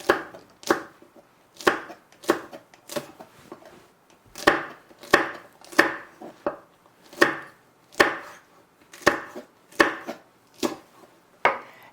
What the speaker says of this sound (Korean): 이렇게 부재료까지 썰어놨어요